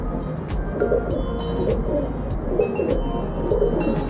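A female Sialkoti pigeon coos in repeated soft, low phrases among other pigeons, close by over a constant background hum.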